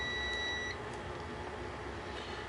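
A multimeter set to continuity gives a steady high-pitched beep for about three quarters of a second while its probes touch the rotor and a commutator bar of a Honda ATV starter, with faint workshop noise after it stops.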